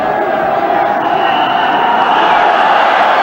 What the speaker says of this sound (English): And the crowd very much participating in what's going on. It is exciting, a marvellous atmosphere.